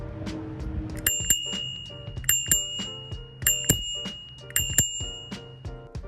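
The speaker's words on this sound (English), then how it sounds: "And this is how the bell sounds." Handlebar bell on a Vvolt Alpha electric bike rung in a series of bright metallic dings, clustered in quick pairs and triplets with ringing overtones, close and clear with no talk.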